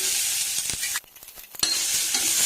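Mustard seeds, cumin, turmeric, a chilli and a little onion sizzling in hot oil for flattened rice: a loud, bright, close crackle with a few stirring scrapes, briefly dipping quieter in the middle before the hiss returns at full strength.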